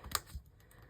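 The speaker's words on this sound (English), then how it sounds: "I take scissors and I just snip" A single quick snip of scissors, crisp and close, followed by a faint soft rustle.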